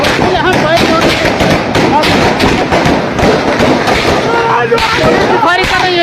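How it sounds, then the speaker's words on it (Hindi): Gunfire during firing in Pakistan-occupied Kashmir comes as dense, loud, repeated thuds and cracks that run throughout, while someone talks over them. "यहाँ फायरिंग हो रही है"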